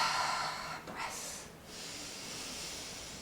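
Deep belly breathing up close: a long airy exhale and a quick sharp inhale, breathy hiss rising and falling in a slow rhythm with no talking.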